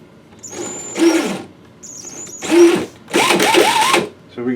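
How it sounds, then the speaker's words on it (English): A drill-driven case trimmer spinning and cutting 5.56/.223 brass, heard as repeated whining bursts with squealing scrapes from the cutter, close and loud, separated by brief pauses. "So we get our brass spinning, and then this guy goes in through the flash hole, and then yeah, it starts trimming."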